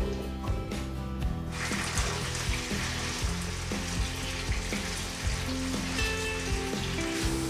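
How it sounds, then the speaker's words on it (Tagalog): Carrots and potatoes fry in oil in a pan for beef kaldereta, a continuous bright sizzle with stirring, heard under steady background music. "Magpiprito lang tayo ng carrots at saka patatas."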